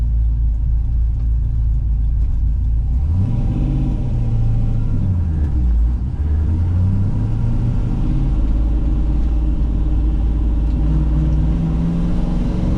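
A low-mileage Holden LS V8 from a 2014 vehicle, fitted in a 1971 Ford F-100 restomod pickup, idles with a deep, steady rumble, then revs up and down several times before settling back into a continuous low drone.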